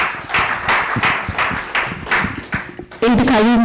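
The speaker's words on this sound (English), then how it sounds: "Another round of applause for him, please." A conference audience at the inauguration ceremony of an international media conference claps in steady, fairly loud bursts. A voice starts speaking near the end.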